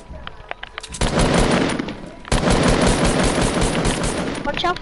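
Gunfire in a PS4 shooter: a few scattered single shots, then two long, loud bursts of rapid automatic fire separated by a short break.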